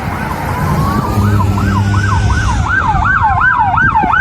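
A police car siren wails on a rural road, loud and close, its tone sweeping up and down in a steady repeating cycle with an engine rumbling beneath it.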